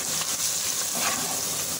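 Garlic and ginger paste sizzling in a frying pan after browned onions, a steady close hiss of hot oil running throughout with no talk.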